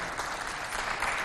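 Applause from an audience at a Chadian fashion show, a dense, steady wash of clapping that fills the whole brief moment without a break.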